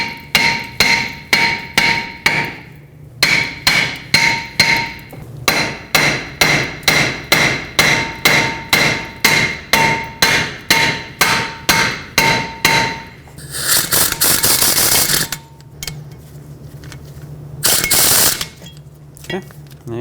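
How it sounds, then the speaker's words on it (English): A hammer taps a stuck brake rotor off the front hub of a 2012-2017 Toyota Camry, striking between the lug studs in a fast, steady run of loud, close metallic blows, then a longer rough scraping grind near the end. "use a hammer, tap right between the lug studs"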